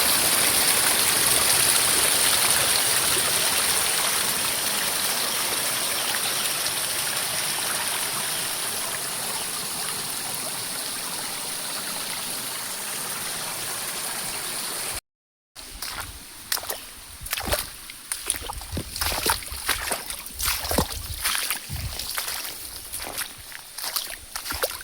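Water runs steadily down a small stream in a coconut garden, a continuous broadband rush that stays loud for about fifteen seconds, then gives way after a brief cut to a choppier, more broken trickle.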